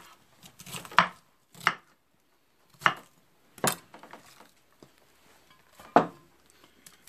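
A knife chops cabbage and garlic on a board for sauerkraut in a few separate, crisp strokes with short quiet gaps between them, close and fairly quiet.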